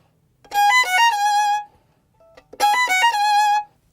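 Two quick runs of bright violin notes step through a scale in first position, one after another, separated by a short pause, played alone and close.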